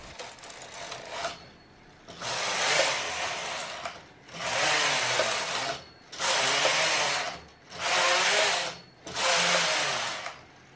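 Knitting machine working a regular waistband, its carriage swept back and forth in five loud mechanical rasping passes separated by short quiet gaps.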